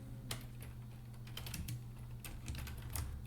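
Keys clattering on a computer keyboard in quick irregular bursts, close and fairly quiet over a low steady hum, no voices.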